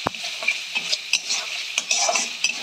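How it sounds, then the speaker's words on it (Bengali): Spice masala with cumin powder fries in oil in a pan for banana kofta curry, a continuous close sizzle broken by repeated scrapes and taps of a spoon stirring, with no voices. "আর একটুখানি জিরে গুঁড়ো দিয়ে আর একটু মশলাটাকে কষিয়ে নিতে হবে"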